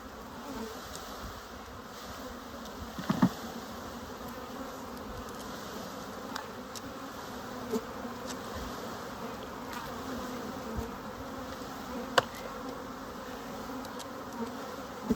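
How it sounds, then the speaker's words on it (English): Honey bees from a package being installed into a top bar hive buzz in a steady, moderately loud drone, with scattered individual bees zipping past and occasional faint knocks. "The bees start flying out a little bit."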